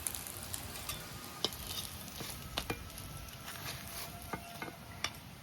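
Malabar spinach fritters sizzle and crackle steadily in hot oil, with soft spatters and occasional sharp pops and scrapes of stirring, close and moderately quiet, no voices.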